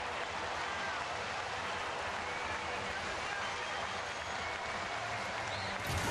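A Fenway Park baseball crowd roars steadily after a home run, a broad sustained cheer and applause from the stands holding at an even level with a brief swell at the end.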